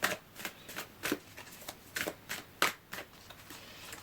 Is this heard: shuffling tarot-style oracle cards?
yes